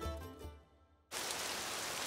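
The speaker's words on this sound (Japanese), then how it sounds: "これは雨の音じゃな。" Rain plays as a sound-guessing quiz clue: a steady, even hiss of falling rain starts abruptly after a short tonal passage and a brief silence, then continues unbroken at moderate volume.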